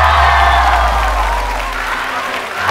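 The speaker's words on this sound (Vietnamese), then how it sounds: "xin một tràng pháo tay nồng nhiệt để chào đón ba thí sinh thưa quý vị" A studio audience at a televised rap competition show gives loud, dense, sustained applause and cheering that stays strong throughout and eases off only slightly near the end.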